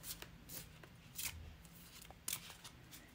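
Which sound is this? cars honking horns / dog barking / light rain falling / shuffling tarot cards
shuffling tarot cards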